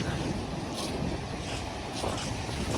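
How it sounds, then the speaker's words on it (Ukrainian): Stormy Black Sea surf rolls onto Langeron beach in Odesa as a steady, dense wash of crashing water, heavily mixed with gusting wind buffeting the microphone. "А море як бушувало, так і, і продовжує."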